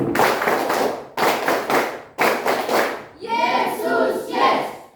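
A group claps in a rhythmic pattern at an Indonesian Christian gathering, three bursts of brisk beats with short pauses between them, then a loud shout from the crowd.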